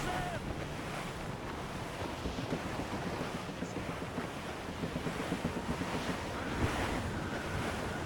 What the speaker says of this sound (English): Nature doesn't want us out here. She bites with a fierce wind